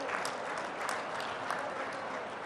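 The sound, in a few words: audience applause welcoming a minister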